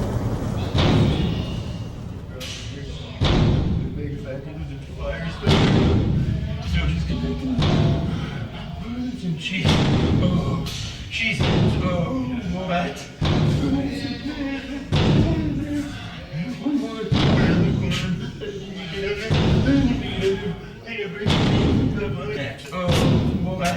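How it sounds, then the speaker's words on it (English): Heavy thumps come through the wall from a neighbouring cell, repeating at uneven intervals, dull and booming, with a voice talking in between. "I kept hearing these thumps from the next room over."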